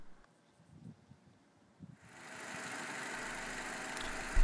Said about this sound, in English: The engine is smooth and has sufficient power